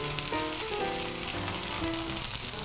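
Teriyaki steak sizzling on a griddle, a constant bright crackling hiss with faint tonal hum beneath, steady and close, with no talk.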